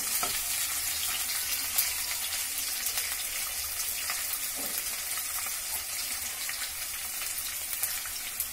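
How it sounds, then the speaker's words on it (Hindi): Ingredients for soya biryani fry lightly in a pan with a continuous, even crackling sizzle that holds at a steady moderate level throughout, and no one speaks. "इसको थोड़ा सा फ्राई करेंगे, हल्का सा, ज्यादा नहीं भूनेंगे।"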